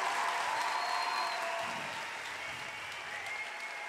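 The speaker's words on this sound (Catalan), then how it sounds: "Fort aplaudiment per Xavi Torres!" Steady, fairly distant applause from a crowd at an evening festival at the Sanctuary of Lluc, Mallorca, continuous clapping that fades slightly toward the end.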